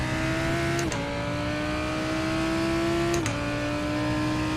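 GT3 race car engine in iRacing at Sebring, accelerating hard through the gears: a steady, loud, high-pitched engine note climbs, with two quick upshifts marked by brief pitch drops. The engine is heard alone, with no talk.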